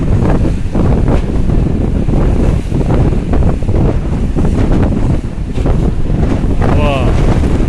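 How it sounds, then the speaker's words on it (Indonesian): Strong wind roars and buffets the microphone nonstop at Bakauheni harbor pier, with high waves and a boat faintly audible beneath the gusts. "Anginnya kencang banget nih"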